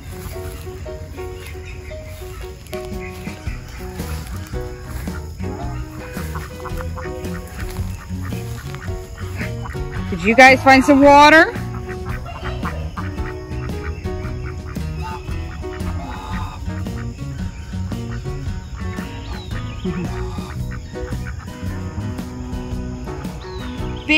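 Ducks out in the weeds near a ditch give a brief burst of honking quacks in the middle, set against a steady outdoor background of insects, while a person talks before and after.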